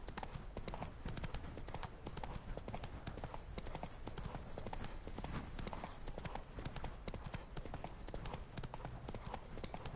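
Roach, the horse in The Witcher 3, clip-clops along in a steady, continuous rhythm of hoofbeats, close and fairly loud, with a busy background of game ambience beneath the footfalls.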